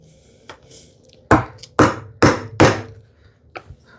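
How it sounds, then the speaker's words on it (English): Bevel-edge chisel chopping mortises in wood by hand, with four loud sharp mallet strikes in quick succession, framed by a few lighter taps before and after. "chopping mortises using bevel-edge chisel"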